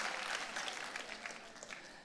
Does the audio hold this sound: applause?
yes